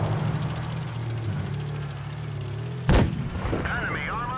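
A single heavy tank cannon blast in a tank combat video game, sharp and loud over a steady engine rumble. A brief voice follows afterward.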